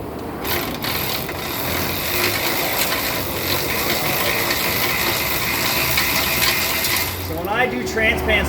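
A ratchet fitted with a Snap-on socket works loose transmission pan bolts under an old vehicle, giving a steady, close run of clicking pawl and metallic rattling with no talk.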